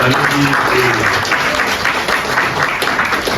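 A church congregation bursts into loud, continuous applause during a worship service, dense clapping with a few voices mixed in, close and steady throughout.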